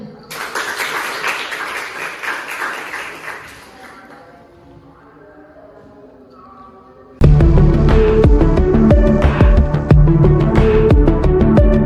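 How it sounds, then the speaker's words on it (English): Studio audience applause greets guests on an education talk show, a steady noisy clatter for several seconds that fades into quieter sound before loud music abruptly starts. "Give applause for them."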